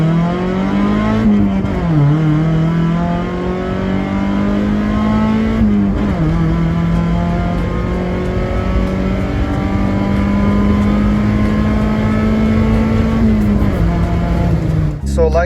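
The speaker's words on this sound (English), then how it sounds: "Nothing like the sound of a muffler deleted Miata in the morning" A loud, raspy engine of a muffler-deleted 1999 Mazda Miata NB1 idles and revs up and down close by, the exhaust note rising and falling several times.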